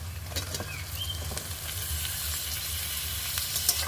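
Chopped tripe stirred into deeply browned fried onions in a hot pan gives a steady close sizzle with soft scraping, with no talk over it.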